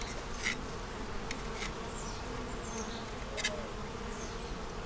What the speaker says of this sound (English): Oh, it's only a bee.